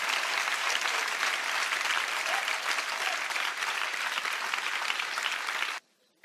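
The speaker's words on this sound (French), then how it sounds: "clap to the Lord" A church youth congregation at a national Bible camp claps in sustained, dense applause for nearly six seconds, steady and full, before it stops abruptly into silence.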